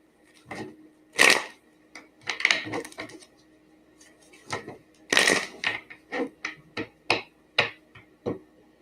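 Tarot cards are shuffled by hand in a quiet room, giving a string of short, crisp riffling bursts with small gaps between them.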